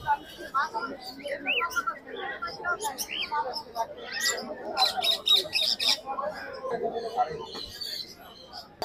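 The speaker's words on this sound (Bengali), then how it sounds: "এখানে ঝুড়ি ভর্তি পাখি আছে।" Caged birds, including cockatiels, squawking and chirping from baskets at the Mirpur bird market, a busy overlapping chorus of shrill calls and screeches, close, with crowd voices mixed in.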